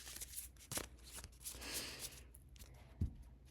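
A deck of cards is shuffled up close in a quiet room, making soft riffling flutters and a brief thump as the cards settle.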